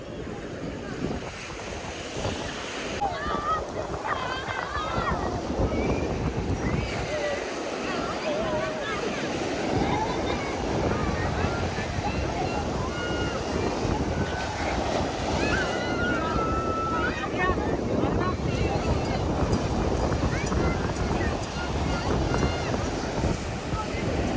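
Waves roar and wash onto the shore at Ponnani beach nonstop while wind buffets the microphone. Faint voices sit in the background.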